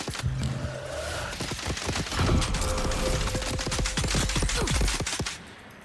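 Rapid pistol gunfire in Dune Awakening, a dense volley of sharp, loud shots cracking out in quick succession for several seconds, with mechanical clicks and a steady electronic tone beneath, then cutting off abruptly.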